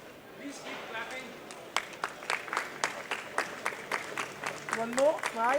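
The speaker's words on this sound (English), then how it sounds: "Please keep clapping." An audience applauds panelists at an event with a steady run of sharp hand claps, building and continuing through the whole stretch, while a person speaks over the clapping.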